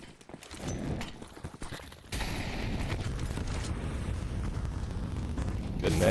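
A grenade goes off in a Counter-Strike match. After a light patter of game noise, a sudden low, rumbling blast swells up and holds as a steady roar for several seconds.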